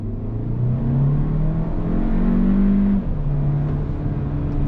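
A 2022 Hyundai Kona N-Line accelerates in sport mode with automatic shifting, the engine droning close and loud as its pitch climbs, briefly drops at an upshift, then pulls again.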